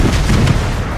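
A single heavy tank cannon shot in the World of Tanks video game, a loud, close boom with a rumbling body that fills the whole moment.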